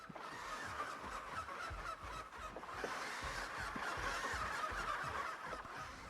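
A swarm of Rhamph creatures in Path of Titans giving overlapping, laughing bird calls, a dense continuous chatter of cackles over a low rumbling ambience.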